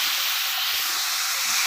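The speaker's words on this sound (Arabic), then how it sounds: "ونحمر بس الشعريه حمرت. نزلنا بالرز والعدس مع بعض" Rice and lentils dropped into a hot pan of fried vermicelli for Egyptian koshari, giving a loud, steady hissing sizzle that stays strong and even throughout, close up with no voices.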